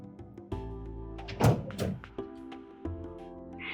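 A large pantry door in a newly built coastal contemporary home's kitchen thuds several times as it opens and closes, with a dull knock and quieter handling noises in between.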